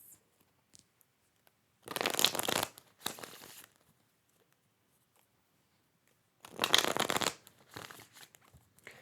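Tarot cards are shuffled by hand in two separate bursts of close, crisp riffling, each followed by a shorter, softer shuffle, with quiet pauses between.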